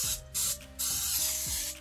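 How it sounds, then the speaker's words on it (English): Two bursts of aerosol cooking spray onto a frying pan, a short hiss followed by a longer one, close by, with faint clinking of the pan underneath. "I do have some cooking spray."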